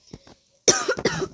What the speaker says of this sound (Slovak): Dačo toľko kašlem.